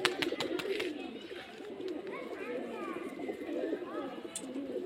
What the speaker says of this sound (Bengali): এই যে দেখতে পাচ্ছেন এগুলো সব আমার ঘরের পায়রা।